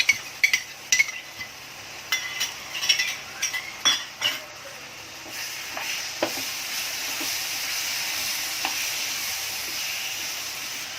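Yogurt and spices sizzle steadily in a pan while a utensil scrapes and clinks against it in irregular strokes, then the frying hiss settles into a continuous sizzle.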